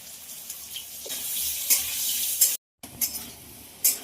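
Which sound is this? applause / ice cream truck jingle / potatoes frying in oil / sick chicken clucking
potatoes frying in oil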